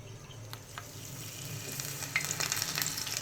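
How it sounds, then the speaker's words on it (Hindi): Chicken samosas fry in hot oil in a pan over a low flame, giving a steady close sizzle with soft crackles and bubbling that grows slightly busier toward the end. "अब हम इसको फ्राई करेंगे।"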